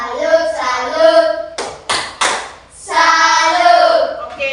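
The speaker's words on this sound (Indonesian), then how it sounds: "kami beri tepuk salut dulu ya untuk teman-teman dari kelompok 2" A class group performs a rhythmic "tepuk salut" cheer, chanting in unison with a short burst of sharp, close hand claps in the middle, then resuming the sung chant.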